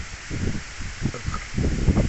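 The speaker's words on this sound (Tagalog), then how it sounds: "Ang lakas ng hangin, no?" Strong wind rustling coconut palm fronds on a copra farm in the provinces, gusty swishing and rustling in uneven surges, close and moderately loud.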